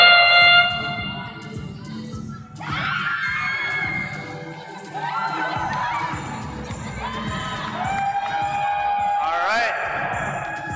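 Young spectators at a FIRST LEGO League robotics qualifying tournament shout and cheer in loud, shrill bursts, with squeals rising and falling and a voice speaking among the crowd.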